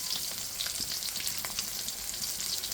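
Tilapia fish frying in oil in a pan produce a close, continuous crackling sizzle with dense spitting pops throughout, with no talking.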